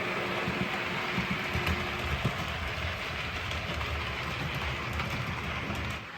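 Model Class 40 locomotive running with a rake of southern region green carriages, a steady close rumbling whir with faint rhythmic wheel clicks, continuous and fairly loud.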